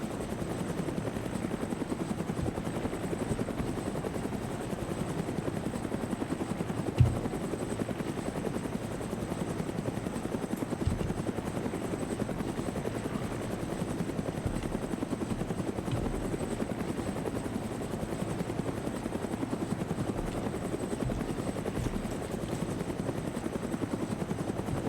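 A helicopter hovering in the military game Arma 3, a steady low rotor thrum and engine whine that holds level for the whole stretch with no talk.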